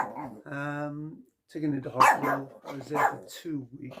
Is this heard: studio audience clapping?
no